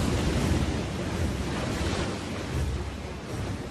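A roaring tidal bore wave surging up a river, a dense, steady rush of churning water filling the whole clip with loud, continuous broadband noise and no voices.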